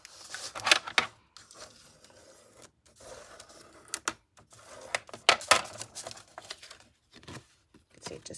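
Vellum paper being worked along an edge for an embossing-folder craft: dry, close crinkles and papery scrapes come in short bursts separated by quiet gaps, with no talking.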